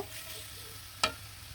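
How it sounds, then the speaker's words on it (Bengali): Cut potatoes fry in a pan with a low, constant sizzle, broken by one sharp scrape of a spoon stirring them, quiet and close. "আলুটা কিন্তু খুব সুন্দরভাবে ভাজা ভাজা করে নিব"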